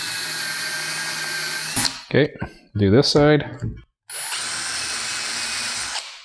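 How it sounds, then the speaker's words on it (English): Power drill with a self-centering bit boring two holes in a shop-made zero clearance table saw insert: a loud, steady high whine for nearly two seconds, a pause with brief speech, then a second equally loud sustained run. "I'm going to use a self-centering bit and drill out both these holes"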